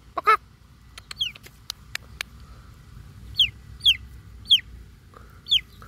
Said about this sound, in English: Keep clucking.